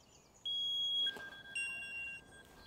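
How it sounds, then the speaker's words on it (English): A Knog Scout bike alarm sounds a set of shrill electronic beeping tones that shift in pitch, heard faintly from a distance, with no talking. "let's set the alarm off"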